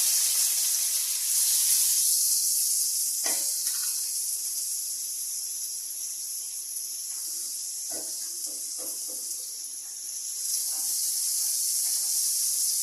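Sliced onions dropped into a hot pan sizzle with a strong, steady hiss that runs throughout, close by, with a few scraping stir sounds and no talking.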